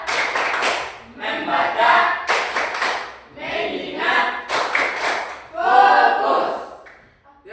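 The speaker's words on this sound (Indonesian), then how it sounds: "Ya, kita tepuk tangan." A group in a classroom claps hands together in rhythmic bursts, about six loud rounds separated by short pauses, each mixed with voices chanting in unison.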